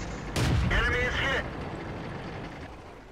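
A tank cannon fires in World of Tanks, a tier V heavy battle against a KV-1: one loud, sharp blast with a ringing tail that fades quickly, then a lower rumble with someone talking over it.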